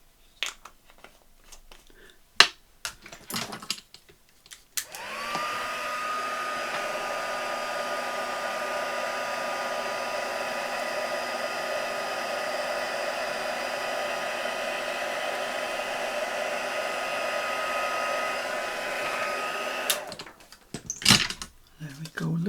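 Handheld heat tool melting embossing powder in a papercraft setup, a steady loud blowing whir running about fifteen seconds without a break, with a few faint clicks and handling noises before and after.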